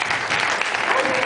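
Applause from a concert audience in a hall, a steady, fairly loud wash of clapping filling the whole moment without a break.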